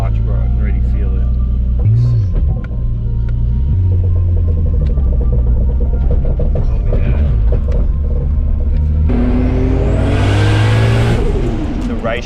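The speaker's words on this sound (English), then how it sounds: "This car sounds like a tractor at idle." Turbocharged car with a CD009 gearbox from a 350Z and a twin-plate clutch, its rough, tractor-like engine rumbling loudly up close and then revving hard with a rising whine, under a voice.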